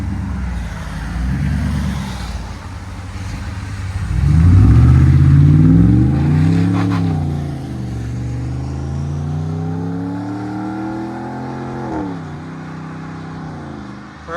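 A Ram 1500 pickup with a 5.7L Hemi V8 and Flowmaster Outlaw exhaust revs loudly, climbing and falling through several throttle blips before settling to a steady idle rumble, alone without talk.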